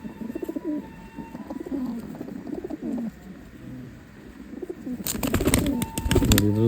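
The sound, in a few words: Chinese pilanka male pigeon cooing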